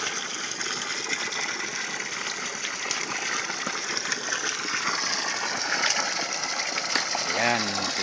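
Water gushes without pause from a pipe fed by mountain spring water, a steady broadband rush filling the whole stretch at close range, with voices heard faintly underneath.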